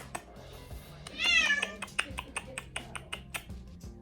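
A cat gives one short, clear meow amid quiet indoor sounds, followed by a series of soft tapping clicks.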